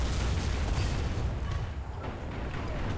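A dense, heavy tank cannon shot in War Thunder booms and rolls through with a sustained rumbling roar that slowly tapers off.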